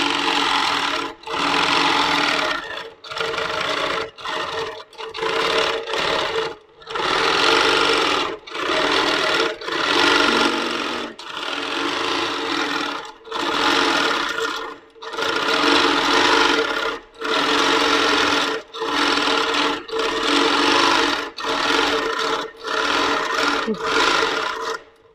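Handi Quilter longarm quilting machine stitching free motion from the front, loud rapid needle chatter in bursts of a second or two separated by brief pauses, close and with no talking.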